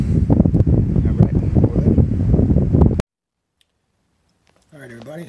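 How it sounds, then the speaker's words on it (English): Cool breeze blowing up a mountainside at a trail shelter, a loud, steady rush of wind buffeting the microphone for about three seconds before cutting to near silence, then a voice speaking at the end. "Kind of breezy up here too, but it feels good. Nice cool breeze blowing up the mountain."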